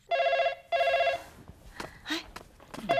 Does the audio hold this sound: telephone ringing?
yes